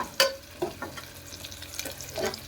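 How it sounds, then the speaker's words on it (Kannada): Tomatoes tossed into a hot pan for tomato rice, with a soft, continuous sizzle and a few stirring scrapes and clinks, fairly quiet and close. "ಈಗ ಟೊಮೆಟೊ ಹಾಕ್ತಿದ್ದೀನಿ."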